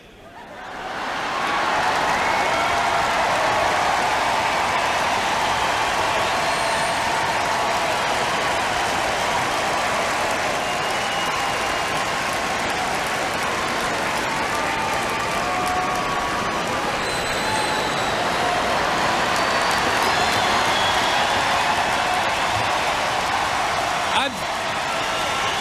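A large crowd at the 1996 Democratic National Convention applauds and cheers in a loud, continuous broadband roar lasting most of the time, steady throughout with scattered whoops, and no talk over it.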